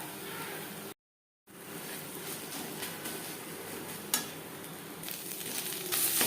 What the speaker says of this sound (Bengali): লো ফ্লেমে আরও তিন চার মিনিট নাড়াচাড়া করে দেবো